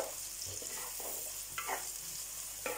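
Curry leaves frying in a clay pot while making fish curry, giving a steady, close sizzle with a few brief stirring scrapes and spatters, no talking.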